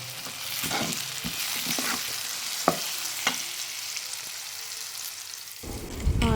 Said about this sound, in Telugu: ఈ టమాటా పీసెస్ కూడా ఆనియన్స్లో బాగా ఫ్రై అవ్వాలన్నమాట.